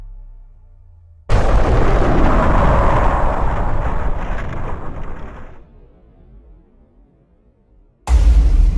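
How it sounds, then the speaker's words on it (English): A loud explosion erupts suddenly into a long roaring blast that fades over several seconds, then a second heavy burst hits near the end. "There was an explosion"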